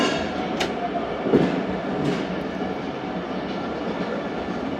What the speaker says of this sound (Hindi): 9:32 पर दोस्तों तेज़गाम रवाना हो चुकी है टंडो आदम रेलवे स्टेशन से।